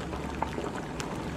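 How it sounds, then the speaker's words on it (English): A cold egg drops gently into roaring hot water in a pan, making one soft plop over a steady, close bubbling boil. "once it hits the roaring hot water, it's not gonna crack"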